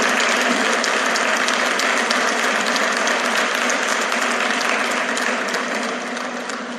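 Sustained audience applause from a crowd at a gathering, dense and steady clapping that fills the whole stretch alone before easing slightly at the end.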